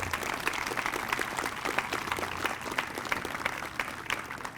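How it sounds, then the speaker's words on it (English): Sustained audience applause at the grand opening of a STEAM education center, dense steady clapping from a crowd throughout with no pauses. "So, very big round of applause for Joe and Judith."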